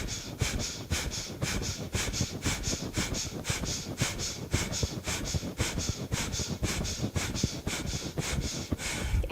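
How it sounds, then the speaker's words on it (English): Rapid, rhythmic pumping breaths during a guided breathing exercise, about 27 forceful in-and-out cycles at a steady fast pace, loud and close with no talking. "And then here we go, 27 pumps, breathing in."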